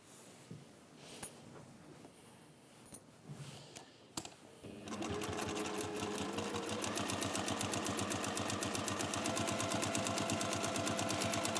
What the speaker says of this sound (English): I'm going to top stitch around there.